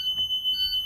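A school bus roof hatch alarm sounds as a steady, piercing electronic tone, loud and continuous through the whole short moment, with faint low thumps beneath it.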